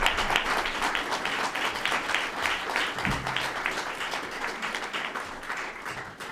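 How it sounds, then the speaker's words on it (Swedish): Warm applause from an audience welcoming a speaker to a channeling event, a steady patter of many hands clapping at moderate volume, sustained and gradually tapering off. "med en varm applåd!"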